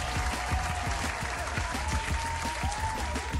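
Audience applause at a Vietnamese market game show, a dense, steady patter of many hands clapping throughout, loud and close, with a faint tone running beneath.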